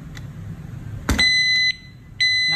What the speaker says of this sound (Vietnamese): nó sẽ tích 5 tiếng bíp cảnh báo kẻ trộm